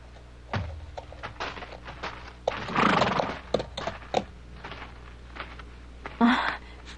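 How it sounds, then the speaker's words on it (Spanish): Horses in a western setting, with a loud close neigh in the middle and another near the end, set among scattered hoof clops and thuds. "Dejemos los caballos aquí."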